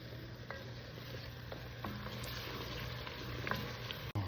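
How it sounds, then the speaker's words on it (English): Tomato paste roasts with shallots and garlic in a pan, giving a quiet, steady sizzle with a few faint ticks and stirring touches throughout. "you're just gonna roast this tomato paste for a couple of minutes"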